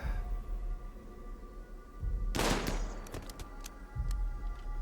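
Burst of rapid gunfire in the video game Rimworld, a dense crackling volley erupting mid-clip over a low hum, followed by a few scattered sharper shots.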